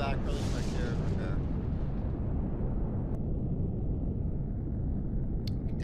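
In the space game Empyrion - Galactic Survival, a missile strikes a ship with a heavy explosive blast. A deep, steady roaring rumble follows and holds loud for several seconds, with brief faint crackles near the end.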